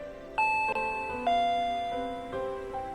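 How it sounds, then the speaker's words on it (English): A doorbell chime from the video game Higurashi When They Cry Hou rings a sequence of bright, bell-like ding-dong tones that overlap and ring out, with no talking. "Oh, it's ding-dong from the doorbell."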